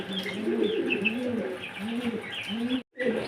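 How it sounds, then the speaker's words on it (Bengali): A pair of racer pigeons cooing close by, soft repeated throaty coos in a steady rhythm, with faint chirps and a brief cut near the end. "দেখতে পাচ্ছেন কোয়ালিটি সম্পন্ন একজোড়া রেসার কবিতর রয়েছে"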